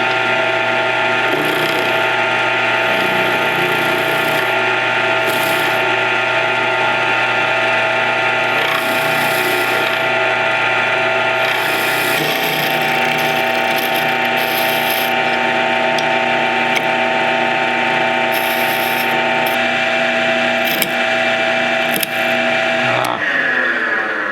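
A drill bit runs into a die-cast Corgi Ferrari Daytona 1/32 scale toy car, giving a loud, steady motor whine with grinding and ratcheting bursts as the pitch shifts, continuous for about twenty-four seconds.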